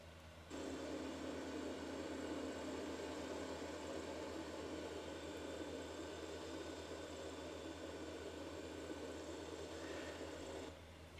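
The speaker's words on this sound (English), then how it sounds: "We have to use a RC helicopter." RC helicopter buzzing in GTA Vice City, a steady droning whine that starts abruptly and holds at an even level for about ten seconds before cutting off, with no talk.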